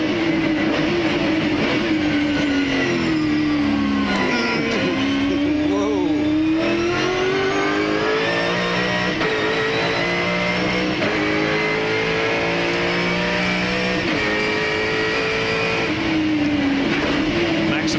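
A V8 Supercar at a 1999 race at Queensland Raceway, heard from the onboard camera as a loud, continuous engine roar that climbs and drops with gear changes, with commentary talk underneath.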